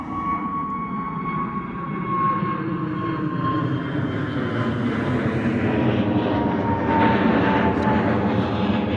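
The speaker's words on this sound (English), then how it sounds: "Another EasyJet coming in, A320 by the looks of it, Neo, coming in from Innsbruck." An easyJet Airbus A320neo airliner landing at London Gatwick, its engine roar steady and loud throughout with a whining tone that slowly drops in pitch, swelling slightly toward the end.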